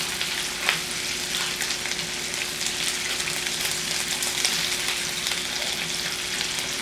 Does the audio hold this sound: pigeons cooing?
no